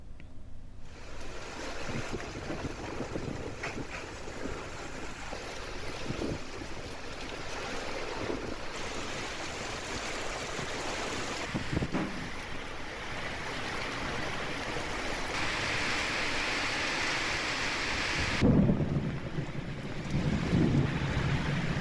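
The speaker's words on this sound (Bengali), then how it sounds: "শুরু হয়েছে প্রবল ঝড় বৃষ্টি ভারী বৃষ্টির পাশাপাশি ঘন্টায় চল্লিশ থেকে পঞ্চাশ কিলোমিটার বেগে বইছে ঝোড়ো হাওয়া" Steady roar of a storm's wind, gusting 40 to 50 km/h, and heavy rain, a dense continuous wash of noise with occasional gusts and rumbles, no voices.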